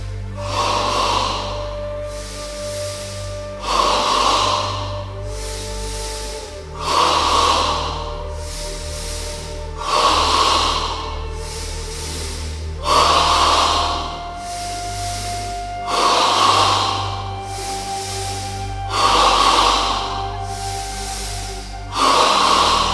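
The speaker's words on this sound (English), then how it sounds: "In stage 3 of double breathing, we breathe entirely in the chest 10 times" Ten rhythmic chest breaths during the third stage of a yoga double-breathing exercise, each a forceful, audible inhale and exhale at an even pace, close and clear with no talking.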